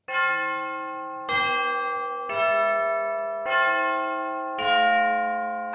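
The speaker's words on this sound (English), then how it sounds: "let's look at some more Tubular Bells" Tubular bells ring out in four or five separate struck notes, each a bright metallic strike with a long shimmering decay that overlaps into the next, clear and close with no talking.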